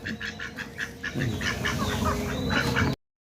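Domestic ducks quack in quick, repeated nasal calls from a few birds close by, a rhythmic chatter running throughout before the sound cuts off sharply.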